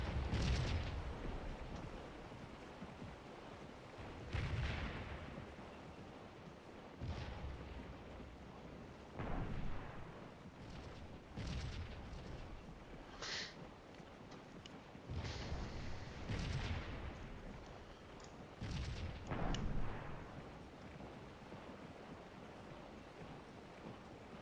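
Artillery fire in the Scourge of War Gettysburg video game: repeated distant cannon booms at irregular intervals, each a broad thud with a rolling tail, over a low continuous battlefield rumble.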